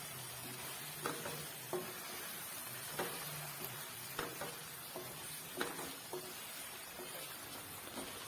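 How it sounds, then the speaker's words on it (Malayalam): Kerala-style creamy egg roast is stirred in a pan with the flame off, giving a gentle lingering sizzle under regular spoon scrapes about a second apart, with no speech. "ഇനി ഫ്ലെയിം ഓഫ് ചെയ്യാം എന്നിട്ട് ഇതൊന്ന് ഇളക്കി കൊടുക്കാം"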